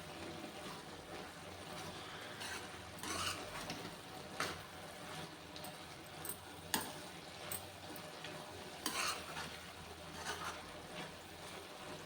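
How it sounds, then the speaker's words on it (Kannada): A cluster bean stir-fry being stirred in a pan after peanut powder is added, with faint, steady scraping and light tapping of a spoon against the pan over a low background hiss. "ಇದು ಕುರ್ಷಣಿ ಪುಡಿ, ಶೇಂಗಾ ಪುಡಿ ಮಾಡ್ಕೊಂಡು ಇಟ್ಕೊಂಡಿದ್ದೆಲ್ಲ ಇದನ್ನು ಹಾಕಿ ಮಿಕ್ಸ್ ಮಾಡ್ತೀನಿ"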